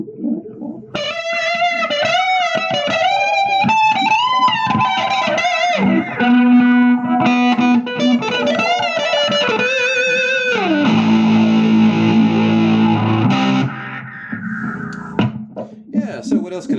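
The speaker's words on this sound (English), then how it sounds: "It gives you kind of a phaser echo effect." A Line 6 Spider IV 120 guitar amp with its sweep echo effect maxed plays sustained distorted guitar notes that sweep and smear in a phaser-like echo, loud and alone.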